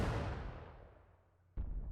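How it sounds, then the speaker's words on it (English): A single cannon blast from a Civil War artillery battery in the strategy game Grand Tactician: The Civil War, its boom rolling off into a long decaying rumble before a second sharp report cuts in near the end. "That were the cannons."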